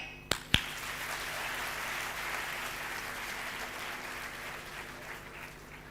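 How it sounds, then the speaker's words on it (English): Two sharp claps open a soft, sustained wash of audience applause at a university teaching session, steady and somewhat distant, slowly fading. "If you agree, clap."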